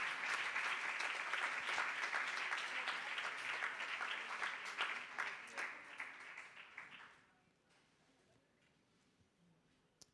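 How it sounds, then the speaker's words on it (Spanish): A congregation at a church service claps for the sisters, warm applause that holds steady for about seven seconds and then fades out, leaving a quiet room with a few scattered claps. "démosle un aplauso a las hermanas por su trabajo"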